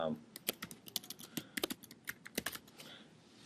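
Rapid keystrokes on a computer keyboard while a folder name is entered, irregular clicks in short bursts, close and fairly quiet with no speech.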